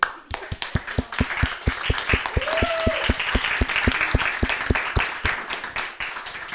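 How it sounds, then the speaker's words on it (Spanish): Audience applause at a StartUp Grind Santiago talk for Maite of Girls in Tech Chile: crisp, loud, evenly paced claps from someone nearby ride over softer clapping from the room. "Yo creo que te pares para que todos tengan un aplauso"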